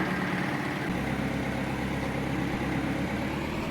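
A tractor engine idles steadily in Farming Simulator, a continuous loud broadband rumble with a low-pitched throb that holds evenly throughout, with no talk.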